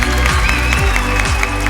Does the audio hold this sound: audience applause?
yes